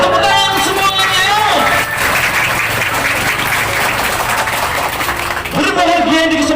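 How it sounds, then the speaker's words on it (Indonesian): A crowd breaks into sustained applause, loud and close, with music or a voice briefly audible before and after the clapping. "Berikan tepuk tangan yang luar biasa."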